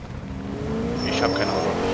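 Steady engine drone from a car in Fortnite, humming continuously at moderate loudness with a slight rise partway through, while a voice talks briefly over it.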